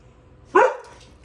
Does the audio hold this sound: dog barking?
yes